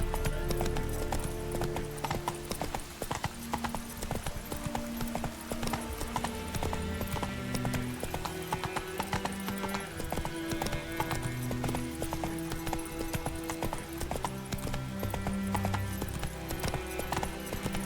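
Roach, the horse in The Witcher 3, gallops in a steady rapid clip-clop of hooves that carries on for the whole stretch over a constant bed of game music and ambience.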